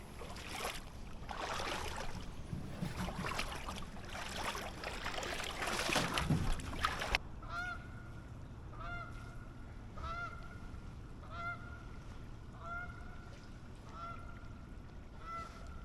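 Geese honking as they fly in to land over a swamp, a string of repeated clear honks at moderate distance in the second half, after a noisy stretch of rustling and handling, no speech.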